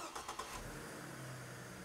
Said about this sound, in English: Mike, can you start the engine for me?